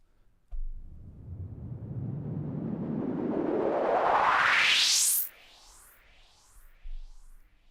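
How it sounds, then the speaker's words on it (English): An uplifter effect sweeps steadily from a low rumble to a piercing high pitch over about five seconds, swelling in loudness, then cuts off and trails into fading echoes, followed by a brief low thump. "Uplifters means it starts from a low pitch and it goes"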